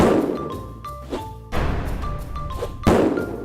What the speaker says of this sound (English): Did you guys hear that thud noise behind me? It's books.